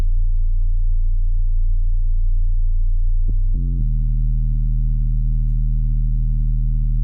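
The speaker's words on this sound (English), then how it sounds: "It's a sub bass, so unless you have good headphones or good speakers, you might not hear this bass." A deep, steady sub-bass sine tone hums continuously and loudly, stepping to a slightly different pitch about halfway through, with no other sound over it.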